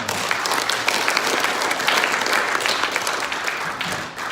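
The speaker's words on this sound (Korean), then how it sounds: "스스로 박수 한번 보내주시기" Sustained applause from an audience at a panel discussion forum, steady dense clapping that fills the room for several seconds before starting to taper off.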